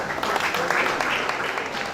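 An audience at a World Antimicrobial Day event applauds its speakers and panelists, a dense, steady wash of many hands clapping for about two seconds.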